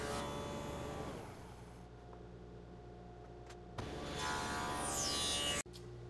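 A dado blade buzzes steadily through a wooden coffee table leg joint, cutting in several passes, with a brief pause before another loud pass resumes up close.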